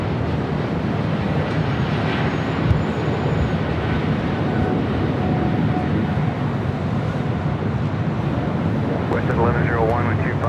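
An Austrian Airlines Boeing 777 airliner at Los Angeles LAX, its steady jet roar filling the air as a broad, constant rumble heard at a distance, with a person talking briefly over it.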